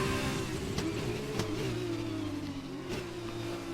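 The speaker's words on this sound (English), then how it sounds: "getting a bit impatient, so I'm too heavy on the throttle" An F2 race car in the F1 2020 video game revs hard under heavy throttle, its engine note holding a steady, buzzing pitch with a few brief rises and dips, loud and close throughout.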